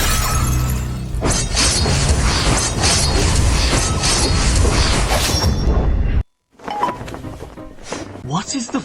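A loud crashing shatter effect in an anime story as an illusion breaks apart, a dense burst of breaking glass and mechanical clatter lasting several seconds, a brief silence, then scattered tinkling debris and rumbling aftermath.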